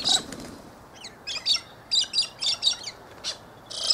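Galahs and a cockatoo call outdoors on a cold winter afternoon, a series of sharp, screechy squawks and chirps in irregular bursts over a quiet background, fairly close.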